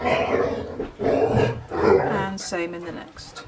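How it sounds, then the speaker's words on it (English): A pet dog in a home, heard as growly, roaring bursts of barking mixed in with someone talking nearby during a crochet lesson. "Excuse my dog's in the background."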